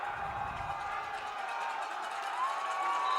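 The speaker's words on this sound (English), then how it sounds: "Big crowd here at San Jacinto trying to cheer their team home." Crowd noise from a big home crowd at a Mt. San Jacinto college football game against Fullerton College, a steady wash of distant cheering and shouting held throughout the stretch with no break.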